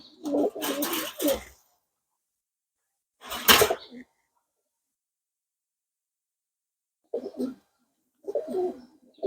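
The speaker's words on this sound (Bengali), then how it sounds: "আসুন কবুতর একটা হাতে নেই তারপর আপনাদের সাথে কথা বলি" A pigeon held in the hand gives short bursts of soft cooing and muffled rustling, separated by long silent gaps, close and fairly loud.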